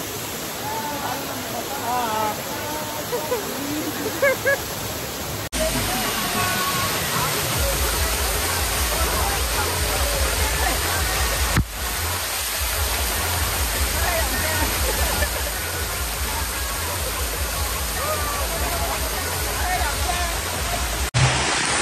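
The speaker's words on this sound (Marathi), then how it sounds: "मित्रांनो धबधब्याचं पाणी आहे ना एकदम मस्त आहे" Waterfall at Malshej Ghat roars as a steady, loud rush of falling water close by, a broad continuous wash that fills the whole stretch, with voices faint underneath.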